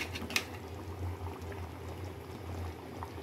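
Tuna fish curry boiling in a pot gives a steady, close bubbling and simmering with soft liquid gurgles and one brief clink near the start, with no talking.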